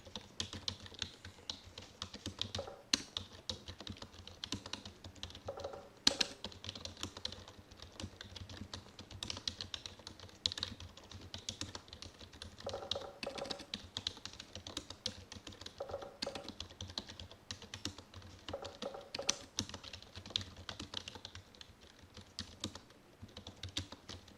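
Typing on a computer keyboard, a continuous close run of rapid, uneven key clicks with brief pauses between bursts.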